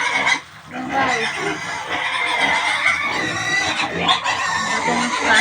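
Pigs on a farm being fed, with a dense, continuous chorus of grunts and squeals filling the pen, steady and fairly loud throughout, with a brief dip near the start.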